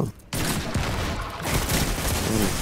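Rapid video game gunfire rattles in dense, continuous bursts after a brief quiet start, loud and close.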